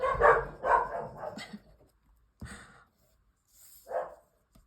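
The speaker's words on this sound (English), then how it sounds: "that's one of my dogs barking," One dog barks at home, a few loud, close barks in quick succession, then a pause and a couple more separate barks, with quiet gaps between.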